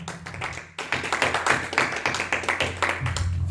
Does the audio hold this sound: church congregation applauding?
yes